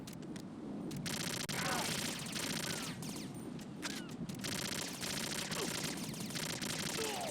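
Sustained rapid gunfire from Metal Gear Solid 2 chatters continuously at moderate volume, with clustered bursts and sharp clicks layered over a dense rumbling background.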